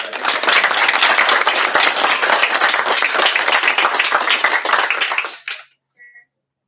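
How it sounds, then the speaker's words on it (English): A school board meeting audience gives a loud, dense round of applause for a young author being honoured, sustained for about five seconds before stopping abruptly into near silence. "One more round of applause."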